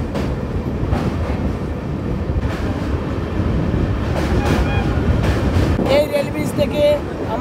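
The 13125 Kolkata Sairang Express rolls over an iron rail bridge above the Bhagirathi, a loud close rumble with rhythmic wheel clatter and some metallic squeals, heard from on board with voices talking over it.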